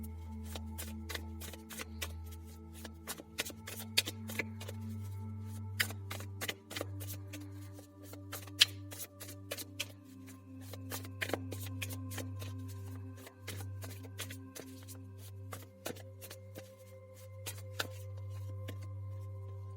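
Tarot cards shuffled and handled at close range during a card reading, with soft repeated riffling and flicking bursts over a steady low hum, no voices.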